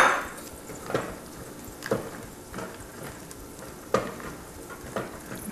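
Chopped mushrooms, about a cup, tipped into a hot pan with red wine, sizzling steadily up close while a spoon stirs them with a few sharp scrapes and knocks.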